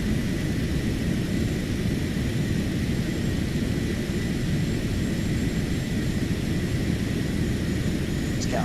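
Steady, loud jet engine roar of a Cessna Citation X business jet in a flight simulator during a visual approach near Catalina, a continuous broadband whoosh with a faint high whine and no talk.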